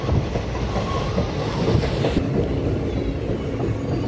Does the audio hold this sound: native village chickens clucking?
no